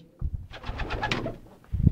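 Pigeons at a bird market give a soft, throaty burst of cooing, a rolling run of low notes up close with a few rustles around them and no talk.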